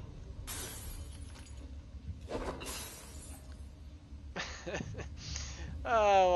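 Glass breaking in the video game Dishonored 2: several bright, crashing bursts spread across the span over a low game ambience, with a ringing tone near the end.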